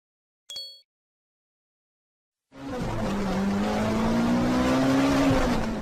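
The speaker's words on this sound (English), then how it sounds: "Where is the racing car?" A racing car engine revs hard with squealing tyres, a loud sustained roar with a rising and falling pitch lasting about three seconds, after a brief electronic chime and a pause of silence.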